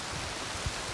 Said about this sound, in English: we just had an unexpected rain shower pop up here.